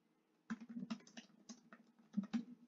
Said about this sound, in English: here I would actually type in blue